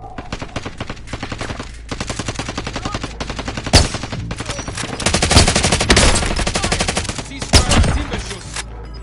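Rapid automatic gunfire in the Warzone battle royale game, long machine-gun bursts rattling almost nonstop with a few heavier, louder shots standing out, close and dense throughout.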